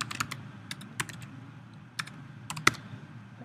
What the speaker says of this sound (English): So I'm going to type in my host name for this site.